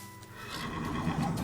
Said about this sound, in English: that is the most terrifying looking horse I've ever seen.